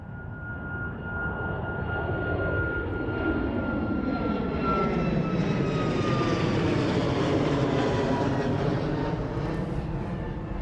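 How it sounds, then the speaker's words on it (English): A Flair Airlines Boeing 737 MAX 8 jet at Toronto airport roars steadily for the whole stretch, a loud, continuous engine rumble with a slowly shifting whine as it passes. There is no talk. "MAX 8 going to Halifax, Flair Airlines."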